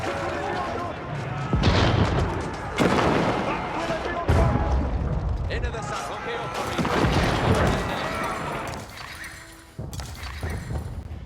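Cannons fire in an Age of Empires 4 multiplayer battle, a series of heavy booms among horse whinnies, hoofbeats and battle clatter, while a player talks excitedly over the game sounds.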